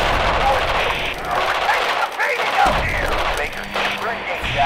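Artillery fire in the Radio General strategy game, dense rumbling bursts and crackling gunfire running continuously throughout, with a voice talking over the combat.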